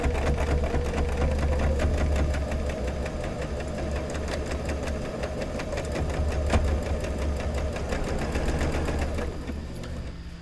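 A sewing machine stitching a quilt runs close and steady, a rapid, even mechanical chatter with a low hum, until it slows and drops off near the end.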